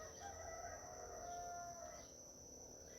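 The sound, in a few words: rooster crowing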